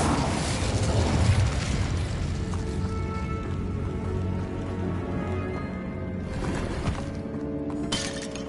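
An Incendio fire spell cast in the video game Hogwarts Legacy bursts with a roaring, crackling whoosh that swells early, then settles into a steady hum of game ambience with a later flare of noise.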